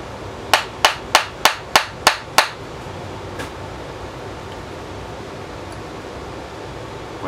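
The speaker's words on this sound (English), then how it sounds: "so I'm gonna have to tap that little guy out" A hammer taps a stuck bearing off the spindle shaft of an MTD White LT200H riding lawn mower. Seven sharp, evenly spaced metallic knocks come close up, followed by a faint steady background hum.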